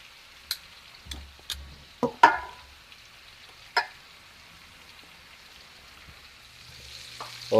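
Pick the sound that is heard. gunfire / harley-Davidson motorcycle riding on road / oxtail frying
oxtail frying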